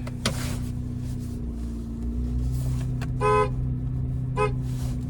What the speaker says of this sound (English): There's the horn.